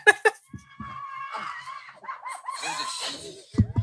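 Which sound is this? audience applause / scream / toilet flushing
scream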